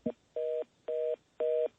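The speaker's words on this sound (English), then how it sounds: "We just lost his phone line connection to Michigan." A telephone line drops with a brief click, followed by three evenly spaced, steady electronic beeps of a disconnect tone, clear and isolated.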